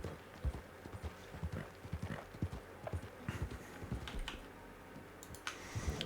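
Horse hooves clip-clop at a steady walking rhythm in the western video game Red Dead Redemption 2, close and fairly quiet, with faint clicks around them and no voices.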